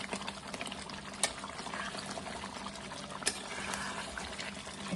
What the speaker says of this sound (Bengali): এই যে দেখুন চিকেনটা বেশ সুন্দরভাবে সিদ্ধ হয়ে আসছে